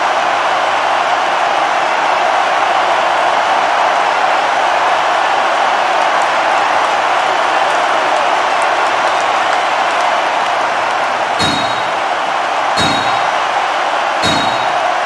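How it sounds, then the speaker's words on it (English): A wrestling ring bell clangs three times in quick succession at the end of a match, ringing out over a constant loud roar of arena crowd noise. "The referee has called for the bell."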